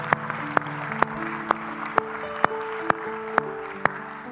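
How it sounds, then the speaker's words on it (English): A church congregation claps in unison during worship, sharp hand claps landing on a steady beat about twice a second over sustained music. "celebrate God with a hand clap"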